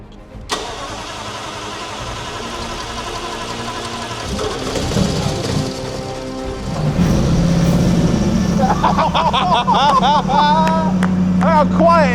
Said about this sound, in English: That is a running 5 litre Jaguar engine in 21 hours.